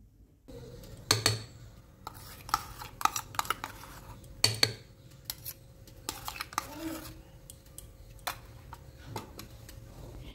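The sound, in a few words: whisking foam into eggless semolina sponge cake batter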